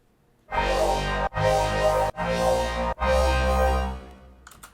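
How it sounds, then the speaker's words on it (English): Colour bass synth run through a melodic convolution impulse in a reverb plugin, four thick sustained notes with smeared, ringing tails, the last one fading out, loud and with no talk. "Here's what this impulse sounds like in hybrid reverb."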